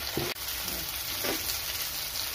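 Ground spice paste of cumin, ginger and chilli with salt frying in a pan for a fish curry, giving a steady soft sizzle with a couple of brief stirring scrapes and no talk.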